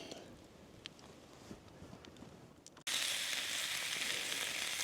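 Vegetables sizzle on a grill over a campfire on a winter camping trip: at first soft crackles and pops come through quietly, then a loud, steady frying hiss takes over, close and continuous.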